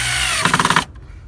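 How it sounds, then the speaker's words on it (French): A power screwdriver drives a screw into a recycled wooden frame for a chicken coop, a short, loud whir ending in a rapid stuttering burst as the screw seats, then stops. "On le plaque au sol et on visse."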